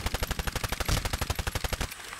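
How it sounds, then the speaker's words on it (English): A Titanfall machine gun fires a rapid, close, loud burst of regularly spaced shots for nearly two seconds, then stops abruptly, leaving faint background noise. "this is a machine gun for fuck's sake"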